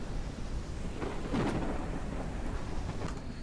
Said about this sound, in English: This is crazy with the storm.